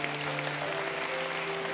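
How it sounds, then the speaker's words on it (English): A church congregation applauds in a steady, even wash of clapping, fairly soft and with no voices over it. "Give him a big round of applause."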